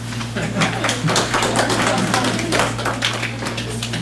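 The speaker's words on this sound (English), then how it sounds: "I think that deserves a round of applause" A crowd at a school board meeting claps in a scattered, uneven patter of taps, moderately close, over a steady electrical hum.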